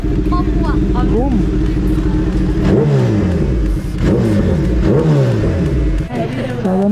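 A Kawasaki ZX10R engine revs loudly through its exhaust, with repeated rising and falling revs close by, partly under people talking.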